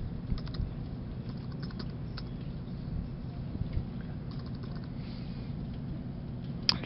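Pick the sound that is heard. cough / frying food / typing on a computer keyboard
typing on a computer keyboard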